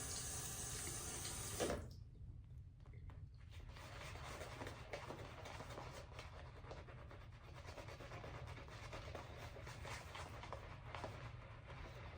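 A tap gushes loudly into a shaving soap bowl with Elysian Grapefruit soap for about two seconds, then cuts off, leaving soft wet swishing and lathering sounds.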